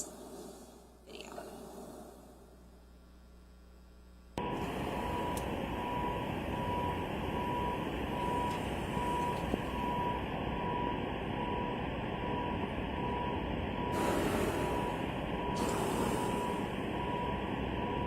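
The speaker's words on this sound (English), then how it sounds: "if you can hear a beeping in this video" Steady electronic beeping like a reversing truck, faint and continuous under a loud, constant background hiss for most of the stretch after a quieter opening.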